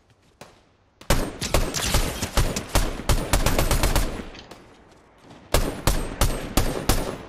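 Gunfire in the Fortnite video game comes as rapid sharp shots in a long burst, then a pause and a second shorter burst, loud and dry.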